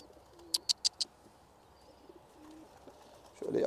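Pet pigeons in a collection of fancy birds make quick chirps near the start, followed by faint low coos and soft rustling in a quiet room.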